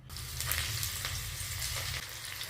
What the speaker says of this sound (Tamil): எண்ணெயை காய வச்சு மிதமான சூட்டில் நம்ம பொரிச்சு எடுக்க போகிறோம்.